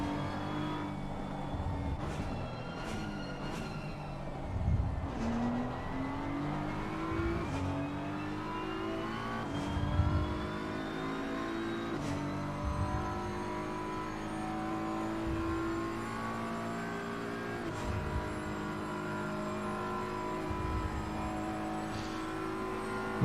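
Race cars lapping Bathurst in Assetto Corsa Competizione, a close engine droning and revving through gear changes, pitch rising and dropping repeatedly with occasional louder surges as cars pass.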